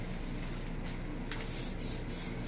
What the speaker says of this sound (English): we're just going to spray. This is the Sebastian Shine Shaker.